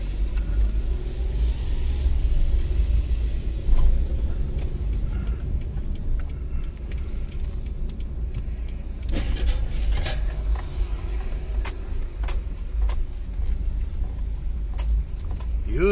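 A car rolls slowly through a U-turn at a parking area, its engine a low steady rumble with faint clicks and rattles inside the cabin, no talking.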